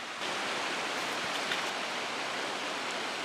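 Steady broadband rush of flowing water, like a creek running over stones, continuous and fairly close with no voices.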